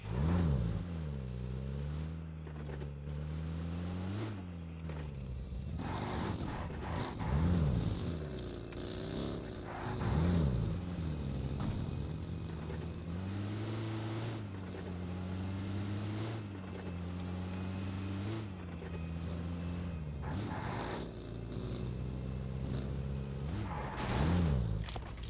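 Car engine in PUBG Mobile revving and droning as the vehicle drives, pitch rising and falling repeatedly with gear-like surges, steady mid-level loudness over a long stretch.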